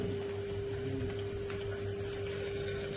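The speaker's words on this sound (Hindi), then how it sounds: "हाथ धोए ना।" Tap water runs steadily while hands are washed, a constant close hiss with a low pump-like hum beneath it and no talking.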